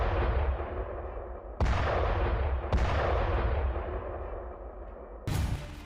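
Heavy booms and blasts from bombing and artillery fire in Kyiv, Ukraine, with a dense rumbling roar and three sharp, loud impacts that decay into rolling low echoes.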